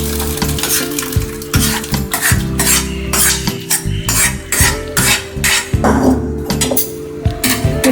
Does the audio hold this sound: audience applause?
no